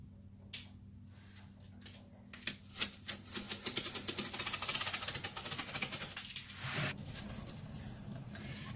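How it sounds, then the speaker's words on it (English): A blade cuts through cardboard for the lid of a fabric-covered box, giving a close, quiet run of rapid ticking scrapes that bunch into a dense rattling stretch midway, with no talk. "And now I will cut my top from my cardboard."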